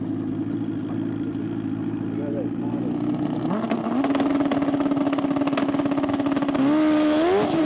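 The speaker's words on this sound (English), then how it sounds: "Graham smokes the tyres right after the launch" A drag racing motorcycle in the ACU Super Street Bike class launches and spins its tyres, a steady engine drone rising into a climbing rev as the bike pulls away, with a second engine also heard.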